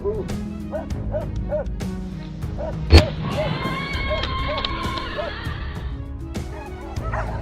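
Hunting dogs bark repeatedly in a forest during a wild boar hunt, with sharp yips and whimpers, a single heavy thud partway through, and voices talking underneath.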